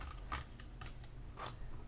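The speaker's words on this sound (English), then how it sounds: "Always keep your fingers away from your scissors." Scissors cutting through a cardboard tube for a sculpture, a few crisp snips spaced apart over a faint steady background hum, close and quiet.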